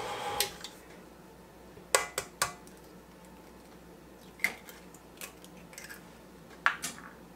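Eggs being cracked for a 1970s Sock It To Me cake batter with vegetable oil, a series of sharp taps and cracks against a bowl rim, spaced irregularly, fairly close and quiet.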